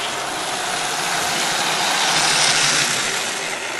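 Model British diesel locomotive running on layout track, a steady broadband whirring and rumbling hum from the motor and wheels, continuous and fairly loud, rising slightly midway with no voices.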